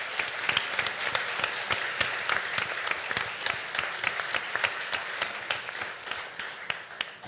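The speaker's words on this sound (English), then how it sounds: "Let's give all 5 of them a round of applause" A crowd at RuneFest 2013 applauds steadily for several seconds, dense clapping from many hands with no talking over it.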